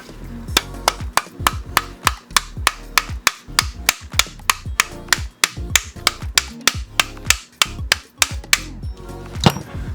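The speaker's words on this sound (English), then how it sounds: "now I'm going to hammer this thing in" Sharp hammer blows drive an AK handguard bracket into place on a rifle, roughly two dozen loud, evenly spaced metallic strikes at close range with brief ringing between them.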